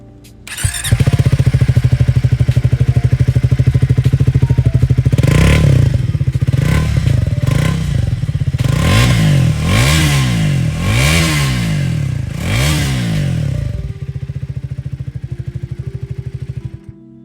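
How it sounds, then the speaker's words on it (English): A 2025 Triumph Thruxton 400 neo-retro cafe racer at close range, its engine idling with a loud steady throb and then blipped repeatedly in a rhythmic series of revs before settling back to idle. "That was the exhaust note of the Thruxton 400"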